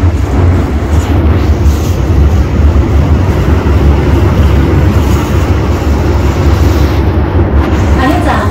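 A Hong Kong MTR subway train rumbles loudly and steadily throughout, a dense low roar with rail noise and no clear speech.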